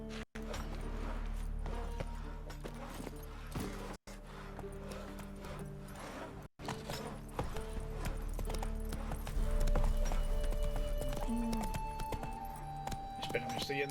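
Hooves of the horse Roach clip-clopping at a steady gallop in The Witcher 3, a rhythmic thudding beat running under game music and someone talking throughout.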